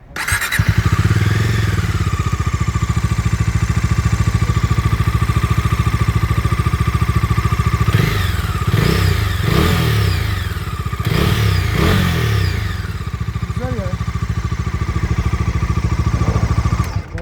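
A Bajaj Dominar 250 motorcycle engine idles loudly and steadily up close, with several sharp revs in the middle and another brief blip later.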